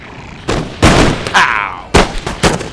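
Musket volleys in Empire: Total War crack out as several sharp, loud reports spaced unevenly across a couple of seconds, each with a brief noisy tail, clear and up close.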